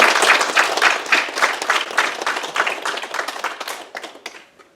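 A church congregation claps to celebrate a newly baptized member, a burst of dense, lively applause that starts strong and gradually thins out and fades.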